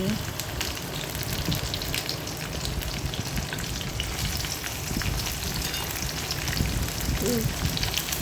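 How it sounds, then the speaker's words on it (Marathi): Beans, carrots, garlic and green chilli fry in oil with cumin, a dense, steady sizzle that stays loud and even throughout with faint stirring underneath. "एक 5 मिनिटासाठी याला हे फ्राय करून घ्यायचं आहे."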